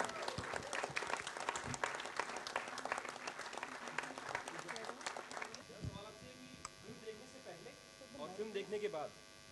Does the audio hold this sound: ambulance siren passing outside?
no